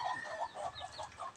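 A small native hen, lifted by hand, gives a quick run of soft, low clucks in rapid succession, faint and close over a quiet background.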